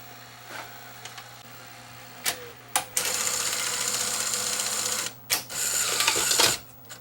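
A repaired Sony SLHF300 Super Betamax video recorder runs its tape mechanism, giving steady mechanical whirring and hum broken by sharp clicks and clunks as modes change, fairly quiet with no talk.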